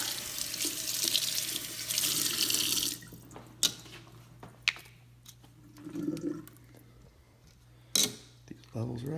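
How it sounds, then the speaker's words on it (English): Water from a household kitchen tap runs loudly as a broad steady rush for the first few seconds, then stops, leaving a low hum with scattered clinks and handling noises. "Let's test tap water while we're at it."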